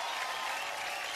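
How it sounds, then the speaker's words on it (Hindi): Audience applause at a Bollywood awards show, a dense steady wash of many hands clapping together, brief and moderately loud. "तालियां"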